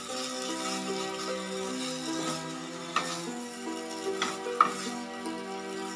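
Taro leaves sauté and sizzle in a pan over a medium flame for a vegetarian dish, with occasional stirring scrapes under steady background music.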